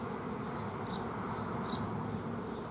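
A continuous, even hum of honeybees swarming around a hive, close and unbroken, with faint individual wingbeats rising now and then.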